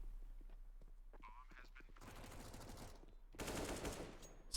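Mac 10 submachine gun fire in a competitive online shooter match, with bursts of rapid automatic shots that grow loud and dense near the end, while a commentator talks over the action.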